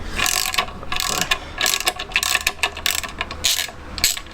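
A ratchet clicks in quick bursts while a flywheel bolt on a classic Fiat 500 is worked loose, sharp metallic ticking repeated in short strokes close up.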